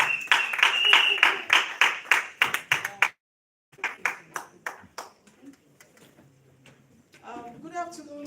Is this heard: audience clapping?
yes